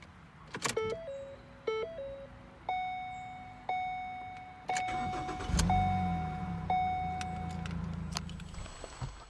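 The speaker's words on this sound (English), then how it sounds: "Start this one up. Insert the key right here." A Ford car is started with a key, beginning with a string of electronic warning chimes and beeps. The engine then cranks and catches, settling into a close, steady idle under continuing tones.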